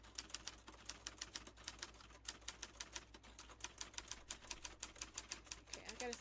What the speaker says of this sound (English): Ooh, typewriter.